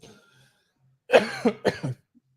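A few harsh coughs in quick succession after a quiet start, close to the listener, with no speech.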